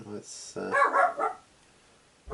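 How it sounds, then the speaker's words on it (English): A pet dog at home gives a few quick barks close by, mixed with a brief spoken word, then the room falls quiet before another sound starts at the end. "just my dog barking."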